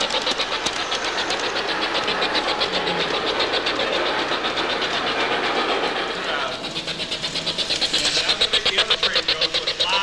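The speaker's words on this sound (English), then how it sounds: "The other train goes so it's loud so I can't hear you." A garden train passes close by at a holiday trees-and-trains display, a loud continuous rumble with rapid rhythmic clatter and people talking underneath.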